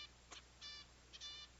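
Small pet finch chirping indoors, a few short high bright calls in quick bursts, faint and close with a quiet background.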